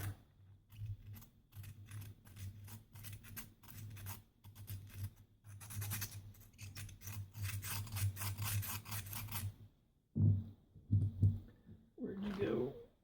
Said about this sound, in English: So now we just got to deburr it a little bit.